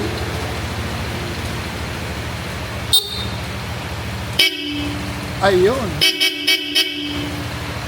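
A Bosch Europa horn on a Honda ADV 350 motorcycle blasts briefly, then sounds in a quick series of short honks, loud and close over a steady hiss, with a brief spoken word.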